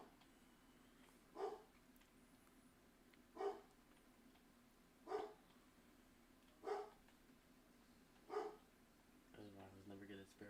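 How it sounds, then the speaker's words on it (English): Dogs bark in the background, five separate short barks spaced about two seconds apart, moderately distant, over a steady low hum, with a brief voice at the very end. "Excuse me for the dogs barking."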